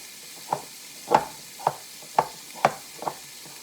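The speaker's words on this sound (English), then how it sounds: "So we're going to go ahead and mix that in, kind of mush it all up." Purple potato pancake mixture being mixed and mushed in a bowl, six soft, evenly spaced squelching thumps close by.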